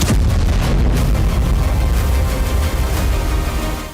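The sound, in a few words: explosions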